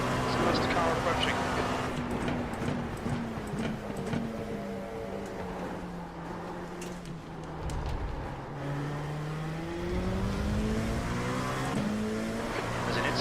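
Race car engine in the iRacing sim during a multi-class endurance race, a steady droning engine with rising and falling pitch as another car approaches, running loud under continuous talk.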